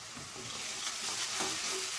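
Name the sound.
stirring spice masala frying in oil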